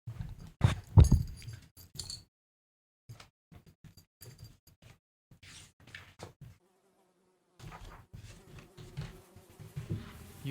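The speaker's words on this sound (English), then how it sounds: "loud, extremely loud buzzing noise" Buzzing insect-like sound effect played during a tabletop Dungeons & Dragons session, coming in irregular bursts with gaps of near silence between them, fairly close and moderately loud.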